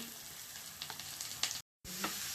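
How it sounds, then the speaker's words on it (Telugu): Shredded cabbage tipped into a hot frying pan with green chillies and stirred, giving a steady close sizzle with scraping stir strokes, a brief gap, then more frying, no talk. "ఇప్పుడు మనము ముందుగా కట్ చేసిన క్యాబేజీ తురుము వేసుకుంటున్నాను"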